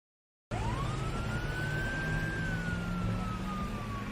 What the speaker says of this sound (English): Behind Tariq we can clearly see an ambulance truck passing by.